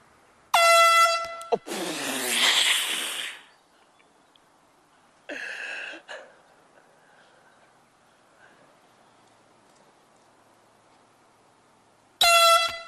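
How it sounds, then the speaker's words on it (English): Loud air horns blown on a golf course as players tee off, sounding as three sharp blasts spread across a quiet stretch, with a brief rushing burst after the first blast. "When people tee off, when they're coming down with their swing, we're going to blow these air horns."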